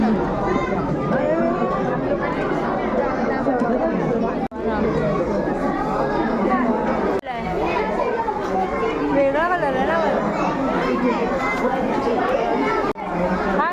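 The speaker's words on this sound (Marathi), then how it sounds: "क्रिसमस असल्यामुळे एवढी गर्दी आहे जाम गर्दी आहे" A packed Christmas-time crowd fills the air with loud, continuous overlapping chatter and children's voices, a nearby person speaking briefly within the din.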